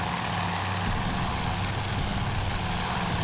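Steady propeller drone of torpedo bomber engines in a naval air battle game set at Coral Sea, a dense continuous roar with no voices.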